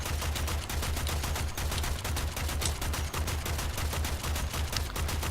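Rapid automatic gunfire from the Warframe video game, a dense, continuous stream of bursts at a steady loud level with no pauses.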